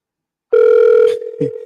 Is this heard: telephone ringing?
yes